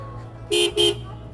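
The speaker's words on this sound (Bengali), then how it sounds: "টপ ওয়ান একটা হর্ন লাগাইছি যেটা কিনা আপনার সাউন্ড মোটামুটি ভালো" A GPX GR250R motorcycle's aftermarket relay-wired horn honks twice in quick succession, loud and close, over a low idling engine hum.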